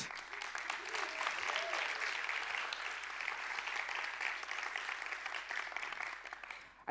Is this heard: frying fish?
no